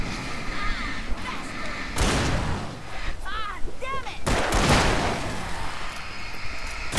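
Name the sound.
gunshot in the video game Alan Wake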